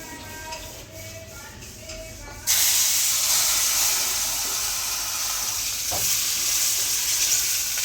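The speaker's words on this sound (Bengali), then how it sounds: "এখন হচ্ছে মাটনটা কষানো হচ্ছে" Mutton braising in a pan as it is stirred: a softer stretch of scraping gives way to a sudden, loud, continuous hiss of sizzling, with a spoon stroke cutting through partway.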